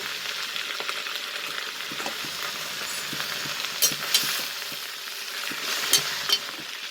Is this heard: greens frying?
yes